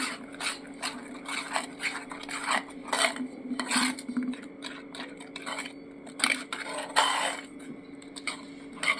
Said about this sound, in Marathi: ह्याला थोडंसं एकदम छान आपण एकजीव करून हलवून घेऊया